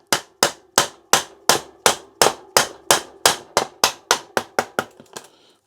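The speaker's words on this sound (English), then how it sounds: "We'll use this rubber or plastic hammer just to tap that way whilst holding the other side." Rubber or plastic hammer taps on a bicycle crankset in a steady series, about fourteen blows, each with a brief ringing decay, the last few quicker and softer.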